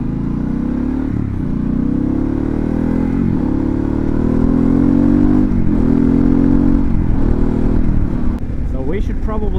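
A Harley-Davidson Pan America 1250 motorcycle with a warning engine light sits running, its low rumble idling steadily with several throttle blips rising and falling, close and loud throughout.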